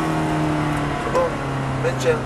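A Ferrari F430 Scuderia on a driving-course track holds a steady engine drone with a slight rise in pitch as it accelerates, heard from inside the car while a voice speaks over it.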